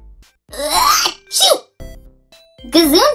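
Someone gives a sharp, close sneeze among short throat sounds and brief vocal noises, with gaps of near silence between bursts.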